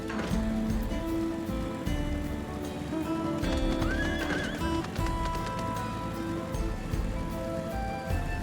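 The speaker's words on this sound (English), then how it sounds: "I heard a horse" A horse whinnies amid steady clip-clopping hooves in Final Fantasy XIV: Dawntrail, set against a busy, continuous game soundtrack with music and ambient noise throughout.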